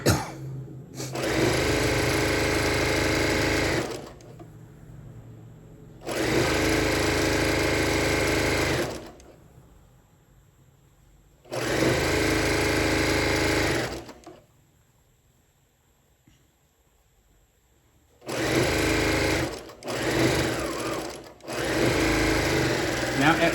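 A sewing machine stitches a seam on a fabric Christmas tree gift bag in four loud, steady bursts of rapid buzzing separated by quieter pauses, with a person speaking in between.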